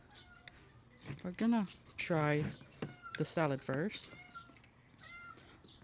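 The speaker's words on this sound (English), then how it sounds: "If you guys can hear the cat meowing in the background," A pet cat meows repeatedly with drawn-out, wavering calls, some close and insistent, mixed with someone speaking briefly in a kitchen.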